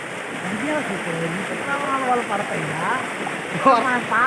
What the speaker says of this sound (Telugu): ఎంత వాటర్ ఫ్లోయింగ్ అవుతుంది కదా